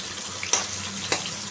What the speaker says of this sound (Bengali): দেখো এবার রুই মাছটা দিয়ে দিলাম রুইটা ভাজবো